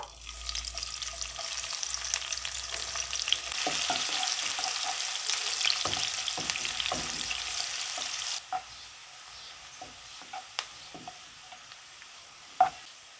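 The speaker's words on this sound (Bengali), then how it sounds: "পোলাওয়ের জন্য প্রথমে পেঁয়াজ বেরেস্তা করে নেবো" Onions deep-fry in oil in a kadai for beresta ahead of pulao, a strong, steady sizzle for about eight seconds that then drops much quieter, with scattered stirring scrapes and clinks and one sharp knock near the end.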